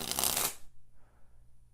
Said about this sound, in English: versus springing from the corners like this